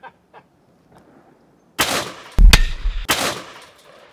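Magnum Research BFR revolver fired outdoors, a few heavy booming shots in quick succession, loud and close with ringing tails after a quiet lead-in.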